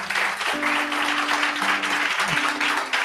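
Congregation applause at a church service, a steady wash of clapping that runs the whole time, with sustained tones from instruments or voices held underneath.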